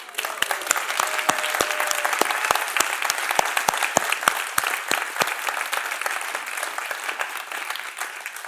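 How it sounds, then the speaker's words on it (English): Sustained audience applause at a live PwC UK alumni event: dense, steady clapping from a sizeable crowd with sharp individual claps standing out, holding at an even level throughout. "please give a massive, massive round of applause to Donna Herdsman."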